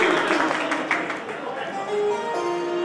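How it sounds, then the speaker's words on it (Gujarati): Audience applause at a humorous stage performance before a gathering of teachers, heard as a burst of dense clapping that fades while a voice keeps talking over it. "તાળી વગેરે"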